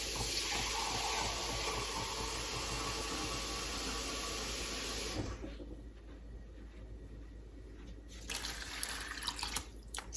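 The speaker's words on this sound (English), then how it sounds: "my last 2 cups of water." Water pours steadily into a pot of roasted vegetables to make broth, a continuous splashing stream for about five seconds, then quieter trickles and a few drips, near and soft.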